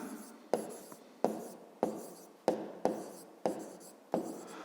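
A pen or pencil scratches across paper by hand in about seven quick, evenly spaced strokes, each a sharp scrape that trails off, close and fairly quiet with no talking.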